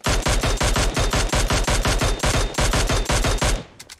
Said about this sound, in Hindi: और फायर करता रहा